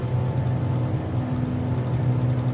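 Cirrus SR22 single-engine piston plane at full takeoff power in Microsoft Flight Simulator 2024, a steady, loud droning engine roar with a low hum that holds even throughout, with no talking.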